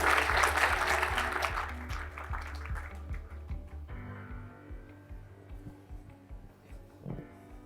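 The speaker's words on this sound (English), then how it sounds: "Give him a round of applause." Conference audience at a business talk giving a round of applause, dense clapping at first that thins out into scattered claps and fades toward the end.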